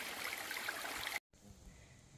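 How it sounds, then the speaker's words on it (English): A steadily flowing stream in the woods along the Appalachian Trail, soft continuous babbling and trickling water, close but faint, broken by a brief cut partway through. "As this has been the first steadily flowing water source,"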